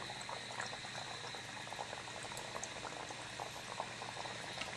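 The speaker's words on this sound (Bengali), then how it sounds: "এবারে অল্প অল্প হালকা আঁচে এটাকে আস্তে আস্তে ভাজতে হবে।" Soft, steady bubbling of kachori frying in oil over low heat, quiet and continuous with tiny crackling pops.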